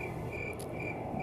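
Crickets chirp in a steady, shrill drone over a soft, continuous wash that could be flowing water, as a night-time sound effect in a field, with no voices.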